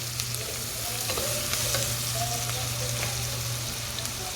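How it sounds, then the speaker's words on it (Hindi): Onions softened in oil with a teaspoon of garlic ginger paste are stirred in a pan, giving a steady close sizzle and frying crackle with a few scraping stirs of the spoon, without talking. "तो अब मैं इसके अंदर ये ऐड कर दूँगी लहसुन अदरक का पेस्ट 1 टीस्पून। इसको भी थोड़ा सा मिक्स कर लेंगे।"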